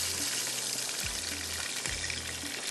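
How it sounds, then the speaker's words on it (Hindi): Water poured into a pan of frying potatoes while cooking aloo tahari, a steady broadband sizzle and hiss with low gurgling swells from the liquid, close and continuous, no talking. "यहाँ पर मैं डाल देती हूँ पानी"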